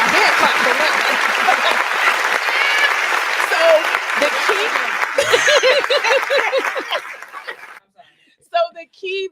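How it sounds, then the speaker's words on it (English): Hand-clap sound effect on a talk show, a dense burst of clapping that swells under talking and light chuckles, then cuts off abruptly near the end. "we got hand claps on that one"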